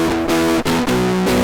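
Fuzz distortion from a VST plugin effect, a loud, saturated, buzzing tone held in three sustained chunks with brief dips between them, with no voices.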